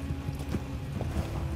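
Horse hooves clip-clopping in a fantasy TV drama scene, a steady uneven series of hoof strikes on the ground at moderate distance, with no talk over them.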